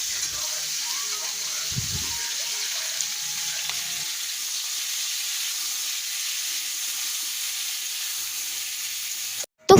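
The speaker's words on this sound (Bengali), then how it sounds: "তো এখন আমার মা ফুলকপিগুলো ভেজে নেবে।" Cauliflower florets fry in oil in a home kitchen, a continuous hissing sizzle close by and fairly loud, with a brief clatter early on and an abrupt cut near the end.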